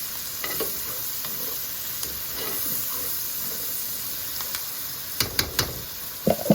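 Butter sauce for seasoned potatoes sizzles steadily in a pan with a continuous frying hiss, broken near the end by a few sharp clicks and scrapes of a utensil against the pan.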